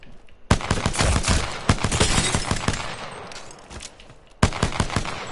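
Pistol gunfire in the video game Apex Legends: loud, rapid shots fired in a dense, sustained burst, a brief pause, then another sharp volley near the end, with no talking.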